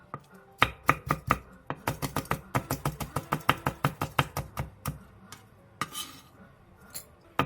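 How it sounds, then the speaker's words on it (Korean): A knife chops green onion, cheongyang chili and red chili on a board in a quick run of about thirty crisp, evenly spaced strikes, then slows to a few scattered taps. "대파 3분의 1개, 청양고추 1개, 청양홍고추 1개를 길게 십자 모양으로 칼집을 댄 뒤 쫑쫑 썰어주세요"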